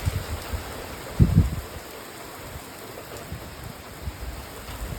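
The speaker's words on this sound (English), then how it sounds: "मूसलाधार बारिश" Torrential rain falls in a spring thunderstorm in Ottawa, Canada, as a steady broad hiss with a low rumbling thump early on and gusty swells beneath it, heard outdoors without talk.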